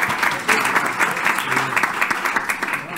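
Short burst of audience applause at a cardiology conference on tricuspid valve disease, steady clapping from a sizeable crowd lasting about three seconds.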